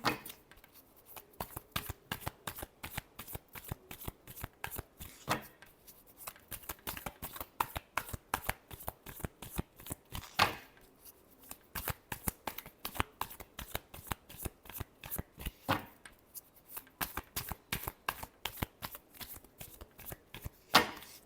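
A deck of tarot cards is shuffled over and over in close, quiet, rapid riffling bursts with brief pauses between rounds.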